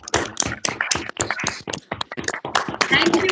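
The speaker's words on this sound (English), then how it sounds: "a big clap from my side at least" Clapping hands from a group at the close of a role-play scene, a dense patter of many claps filling the whole stretch, fairly close and steady with no talk over it.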